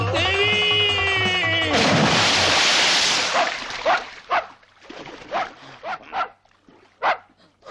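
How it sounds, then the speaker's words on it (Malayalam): A dog barks in a Malayalam comedy film scene, a series of sharp barks at irregular intervals after a loud burst of noise and a high whine, fairly close and alone without speech. "പട്ടിയായിരുന്നു."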